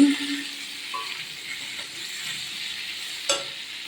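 Potato and pumpkin curry cooks in a pan, giving a soft continuous sizzle with faint stirring scrapes and a small clink near the end, quiet and close.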